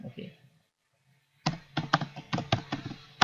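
Rapid clicks of a computer keyboard as C++ code is typed, a burst of irregular keystrokes close up after a brief pause, with a faint voice murmuring at the start.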